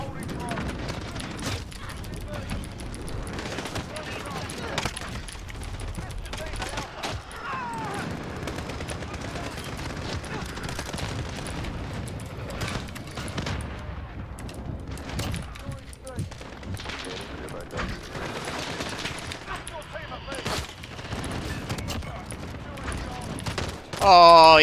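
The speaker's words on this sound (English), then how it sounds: "he's strafed me with a FAMAS" Rapid bursts of FAMAS rifle fire in a shooter video game, dense and continuous with other gunshots throughout, mixed under game sounds.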